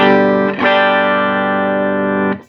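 A cheap Donner or Rowin pedal board shapes a single sustained electric guitar chord with distortion and effects. It rings loud and steady, then is briefly re-struck near the end, with no talk.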